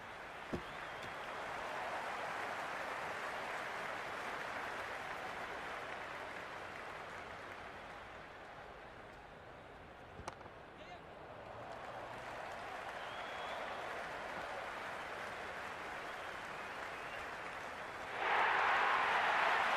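A stadium crowd at a Pakistan vs South Africa T20 match in the cricket video game Cricket 26 keeps up a steady roar of cheering and clapping, sustained and broad, which surges louder near the end.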